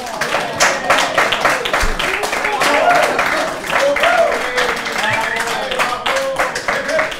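Audience applause at a live lecture event in a German-speaking hall: dense, steady clapping from a crowd fills the whole stretch, with slight swells and a few murmured voices mixed underneath.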